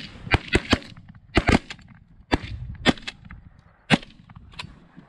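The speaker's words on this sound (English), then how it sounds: "Oh, that one took two shots." Shotgun blasts during a duck hunt from bales: about ten sharp, loud reports in irregular bursts, some in quick pairs, with quiet gaps between.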